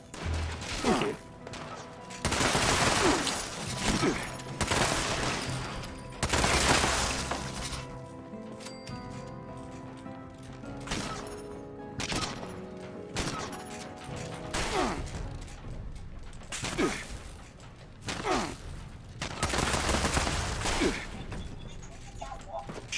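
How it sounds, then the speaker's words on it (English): Gunfire in Fallout 76 near a noisy factory comes in repeated loud bursts and crashing impacts over a busy, clattering game soundscape, with a voice talking at times. "Shots at the front centre now."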